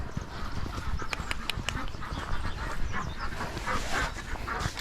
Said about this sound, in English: You can probably already hear the ducks.